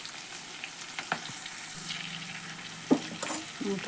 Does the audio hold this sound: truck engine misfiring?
no